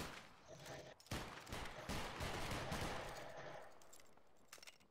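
Musket volley in the line battle game Battlegrounds 3, a sudden loud ragged crash of many shots fired together, rolling and decaying over a few seconds, with faint voices behind.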